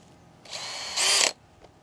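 A cordless drill with a 6 mm bit whirs up briefly, then bites into very hard wood with a louder, higher-pitched grinding whine for about a third of a second before stopping abruptly.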